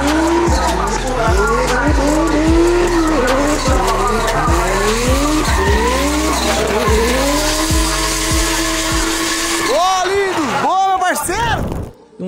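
A drift car skids hard through a drift championship run, its tires squealing in long rising and falling wails over a loud, steady engine roar, with a commentator talking over it.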